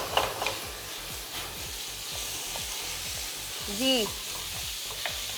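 Beef mince fries over sautéed garlic in a hot pan, sizzling steadily with a rhythmic scraping stir every half second or so; a brief voice murmurs near the end.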